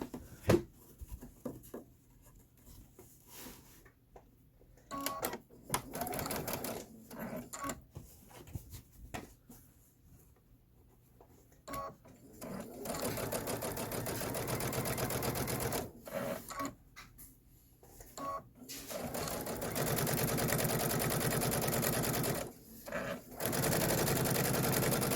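Sewing machine stitching a pillow top seam while piecing a Kimberbell bench pillow, with two long runs of steady rapid whirring separated by pauses and brief starts and stops.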